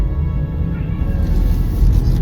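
Newly adopted pet cats meow and yowl in low, drawn-out cries inside a vehicle, close and loud over a constant engine rumble.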